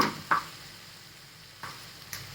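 A spoon scrapes through grated mango frying in a little ghee, giving soft stirring strokes over a faint steady sizzle, close and quiet, with no voices.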